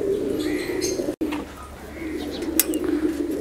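A breeding pair of White Danish pigeons coo on a fancy pigeon farm in Multan, Pakistan, giving soft, low, repeated coos close by, with faint chirps from other birds around them.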